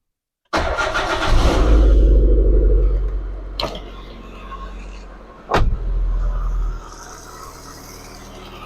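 A car engine cranks and catches, then revs up loudly and settles back down. Two sharp mechanical clunks follow, then a second rev before a rough idle, all close by.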